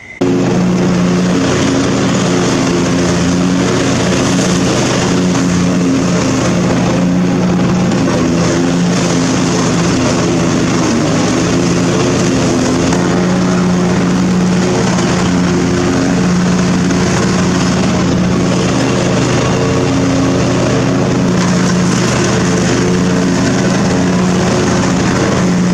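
A riding lawn mower with a freshly repaired deck, new belt, new blades and greased spindles runs on a test drive as dusk falls, its engine a steady, loud, unbroken drone from start to finish with no talking.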